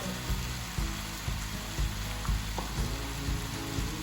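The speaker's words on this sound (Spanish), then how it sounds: "Y lo hacemos freír todo junto." Mushrooms fry together in a pan for a vegan pâté, giving a steady close sizzle with soft clinks and stirring scrapes repeating about every half second.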